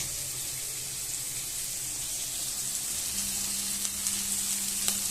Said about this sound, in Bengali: আলু দিয়ে চিংড়ি মাছটা ভাজছি